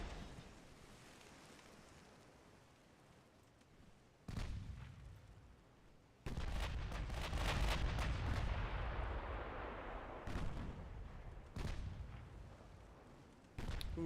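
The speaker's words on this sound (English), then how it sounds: "The enemy has officially opened fire on us." Enemy warships' naval guns firing in the game Ultimate Admiral Dreadnoughts, with heavy booming salvos and rumbling blasts that grow into a dense, sustained barrage punctuated by sharp individual reports.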